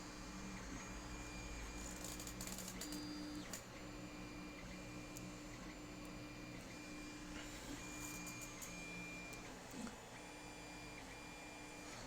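A printer runs steadily in the room, a continuous mechanical whir with faint repeating tonal hums and occasional soft clicks over twelve seconds, no talking.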